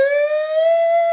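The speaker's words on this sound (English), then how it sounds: "is that a police siren?" Steady wailing siren heard from outside while working from home, its tone held loud and unbroken, with no voices over it.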